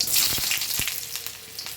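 Onion hits hot mustard oil in a wok, a loud, close sizzle with sharp crackles and stirring scrapes that eases slightly over a couple of seconds.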